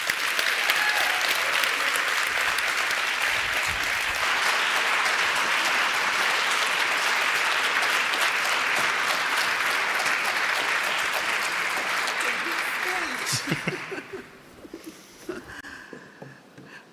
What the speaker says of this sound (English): Please join us in giving a warm round of applause